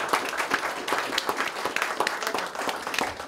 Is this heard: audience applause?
yes